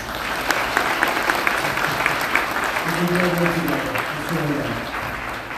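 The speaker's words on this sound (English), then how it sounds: "Please give Fong a round of applause." An audience at a Hmong heritage gala at Fresno State breaks into steady applause, a dense wash of clapping with a person speaking briefly over it.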